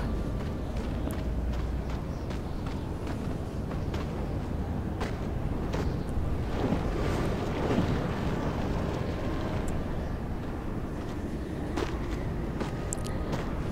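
Wind blows steadily in a stormy area of the video game Sky: Children of the Light, a constant gusty rush with faint soft taps and rustles scattered through it, no voices.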